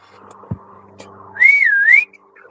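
A single person whistles a clear, sliding tune lasting under a second, loud and close over a quiet room, after a faint thump and soft background noise.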